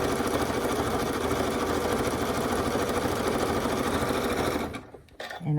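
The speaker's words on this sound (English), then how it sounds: "Now I am using a zigzag stitch" A sewing machine runs a zigzag stitch along a quilt binding, a fast, even mechanical chatter held close and loud for several seconds before stopping abruptly.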